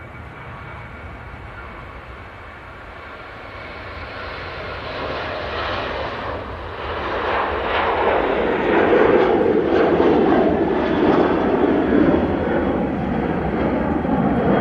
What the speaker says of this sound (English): I can hear our next plane coming out. And that is the Ryanair going to Warsaw